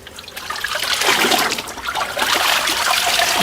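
Animal hide rinsed in a tub of water during tanning, with continuous sloshing, splashing and trickling water that swells and churns steadily, loud and close with no voices.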